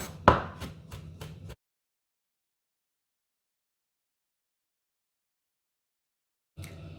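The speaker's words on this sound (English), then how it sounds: "You slice the chili thinly." A few quick knife chops of fresh chili being sliced thinly on a cutting board, close and crisp at the start, followed by a long silence and a brief return of kitchen noise at the end.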